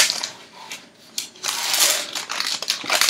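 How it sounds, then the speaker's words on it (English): Parchment paper is pressed into a baking pan for a Swiss roll, giving close, loud crinkling and rustling in uneven bursts, with a brief lull before steady crackling resumes. "what I am going to do is to place my parchment down and press it down on the corners"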